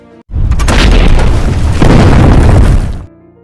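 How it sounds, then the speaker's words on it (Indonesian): Battle sound effect of Soviet anti-tank rifle fire answered by German tank fire, one loud booming blast with a long rumbling roar that holds for nearly three seconds before cutting off. "Pertempuran dibuka dengan tembakan senapan anti-tank dari tentara Uni Soviet, dan tidak lama dibalas oleh tank tentara Jerman."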